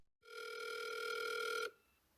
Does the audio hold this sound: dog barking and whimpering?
no